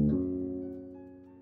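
A major third rings out as two notes sounding together, a low sustained chord struck once at moderate volume and slowly decaying over a second and a half.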